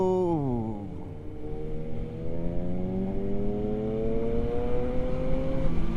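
A Kawasaki Ninja ZX-10R superbike fitted with an aftermarket exhaust revs and pulls away, its engine note climbing in a long rising whine over a rough rumble that grows louder.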